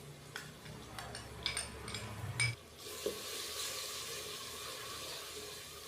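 A spoon stirs chopped tomatoes and green chillies in a cooking pan with a soft sizzle and a few scraping clinks early on, then a steady low frying hiss.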